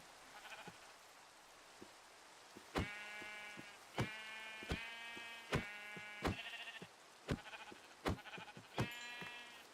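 Sheep bleat several times in short, quavering calls, separated by sharp clicks and taps, in an otherwise quiet, faint setting.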